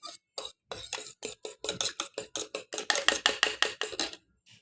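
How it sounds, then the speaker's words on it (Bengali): Eggs are beaten with a fork in a bowl, a fast run of about twenty close, rhythmic tapping and sloshing strokes that build slightly in loudness and then stop abruptly. "এখন ডিম ভেঙে কাঁটা চামচ দিয়ে ডিম ফাটানোটা খুব সুন্দর হয়"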